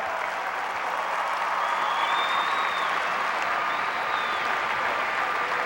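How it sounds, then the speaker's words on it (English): A large crowd at a 2005 state championship high school basketball game applauds both teams, a dense, steady wash of clapping and cheering that holds for several seconds with a few whistles rising above it. "Let's give these 2 fine basketball teams a great big round of applause."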